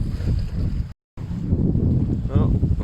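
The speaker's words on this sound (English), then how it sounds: "On the opposite tack now, wind's picked up a bit." A sailboat sails solo on the Solent as the wind picks up, with gusty wind buffeting the microphone and a rushing wash throughout. A voice speaks briefly near the end.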